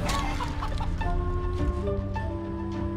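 A chicken clucking in the fantasy role-playing game Divinity: Original Sin 2, with short repeated clucks over a busy game soundtrack and effects.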